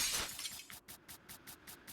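Glass shattering effect in a video game: a loud, bright crash at the start, followed by a rapid series of about seven evenly spaced, fading tinkling bursts as the shards scatter.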